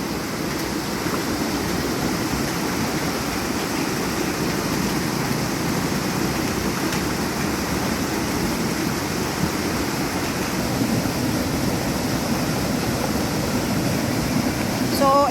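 A flooded creek in the Babuyan countryside, swollen after a sudden heavy rain, rushes in a loud, unbroken roar of churning water close by.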